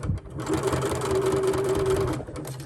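Sewing machine stitching fabric for a wristlet, a steady fast mechanical whir running for a couple of seconds up close, starting and stopping cleanly.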